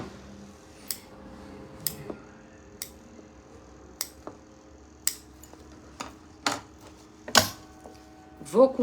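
Scissors snipping a small notch into the outer structure of a fabric sewing pouch, sharp isolated clicks spaced about a second apart, close and crisp, with a few louder snaps near the end.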